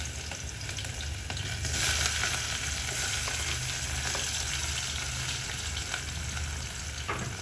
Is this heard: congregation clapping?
no